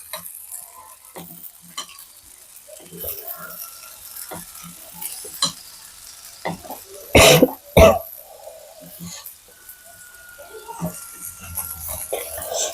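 Sweet potato slices frying in a pan make a soft, low sizzle broken by light scrapes as the slices get flipped, plus two loud coughs or throat-clearings near the middle.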